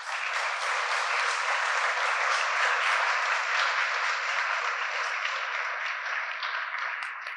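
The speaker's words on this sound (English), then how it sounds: "Thank you all for applauding." Sustained applause from an audience at a public workshop, steady dense clapping filling the whole stretch at a moderate distance, tapering slightly toward the end, with no voices over it.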